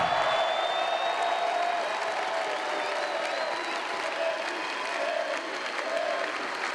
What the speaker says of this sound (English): Fans, make some noise for a true OSU legend, Gary Payton.